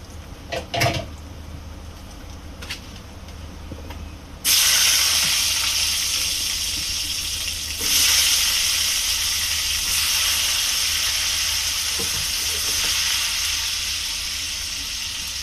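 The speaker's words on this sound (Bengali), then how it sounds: "এখন আমি আলুগুলো ভেজে নেব।" After a few soft clicks, a loud hiss of frying suddenly erupts and continues steadily, a sustained crackling sizzle of potatoes hitting hot oil.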